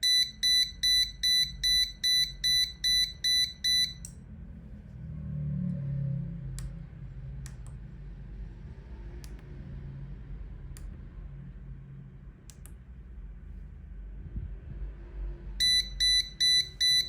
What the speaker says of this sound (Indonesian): Ketika waktunya habis, maka akan muncul alarm buzzer